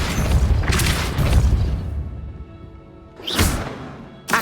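A Depulso spell cast in the video game Hogwarts Legacy, a heavy booming blast with a rushing whoosh, followed by a quieter tail and a second sharp surge of force, loud and close.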